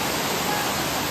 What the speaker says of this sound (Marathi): माझ्या मागे वॉटरफॉलच आहे